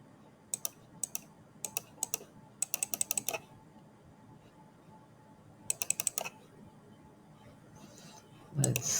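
Computer keyboard typing comes in quick clustered bursts of keystrokes with pauses between, close and moderately loud over a low background hum, ending in a brief louder rustle.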